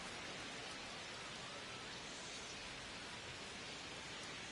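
Rain falls in the MLB The Show baseball game, a steady broadband hiss of raindrops at low volume, unchanging throughout with no voices over it.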